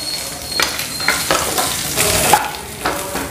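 Sliced onions dropped into hot oil with browned cumin seeds, a loud close sizzle broken by several bursts of scraping and stirring from a spatula, with no talking.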